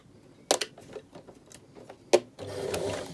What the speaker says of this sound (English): and then we'll stitch 1 centimetre along that edge